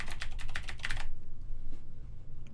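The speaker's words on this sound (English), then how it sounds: "I'll just type out my name." Rapid burst of computer keyboard keystrokes during web page editing in Dreamweaver, close and fairly loud, lasting about a second before stopping, leaving a low steady room hum.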